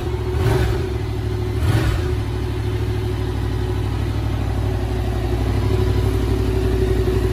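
Yamaha XSR 700 motorcycle engine running steadily close by, with two brief revs swelling early on over a constant low rumble and no talk.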